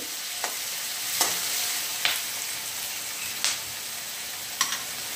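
Onion fries in oil in a pan until turning pink, with a steady close sizzle broken by several sharp scrapes and taps of a spoon stirring it at uneven intervals.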